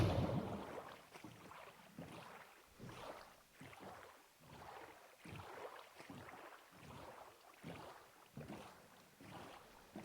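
A boat cruises along the coast in Minecraft, with quiet rhythmic splashing strokes repeating about every half second against faint wind-like noise.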